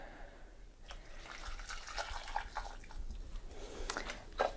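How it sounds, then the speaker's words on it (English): Boiling water pours into meatloaf in a quiet, close trickle with small splashes and gurgles, faint and uneven over a few seconds. "I'm going to add a little bit of boiling water"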